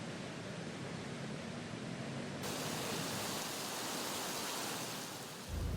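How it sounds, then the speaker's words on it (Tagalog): Floodwater rushes along the overflowing Marikina River during heavy rain and strong wind, a dense, even roar of water with no pauses, heard from nearby at a steady level throughout. "mas tanaw ang malakas na agos ng tubig mula dito sa Marikina River at itong pag-apaw ng ilog"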